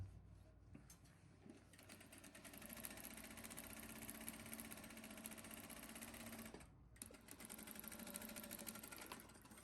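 Sewing machine stitching the side seams of a corset, running in a steady, loud mechanical whir with fine rapid needle rhythm, briefly pausing near the end before resuming.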